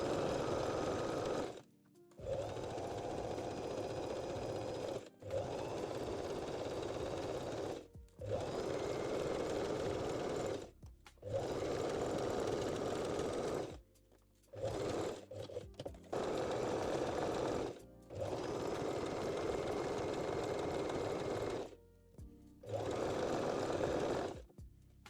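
A sewing machine stitching jersey and lace panty crotch pieces together, running in loud, steady buzzing bursts of several seconds, separated by short pauses.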